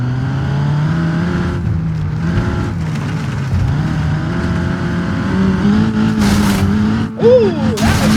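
The Cherrier Tograc, an all-wheel-drive vehicle in BeamNG.Drive, drives with a loud, close engine drone whose pitch rises and falls as it revs, ending with a brief tire squeal.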